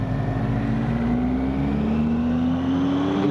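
A car engine drones steadily in first gear up a run of mountain hairpin bends, its pitch slowly rising under load. It sounds loud and close, like from inside the car, with no talking.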